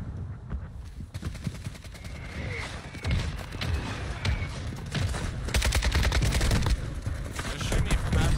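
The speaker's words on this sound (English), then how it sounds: "They're shooting me from every direction" Rapid gunfire from a multiplayer shooter game, dense bursts and repeated shots crackling steadily and growing louder toward the end, with no clear talk over it.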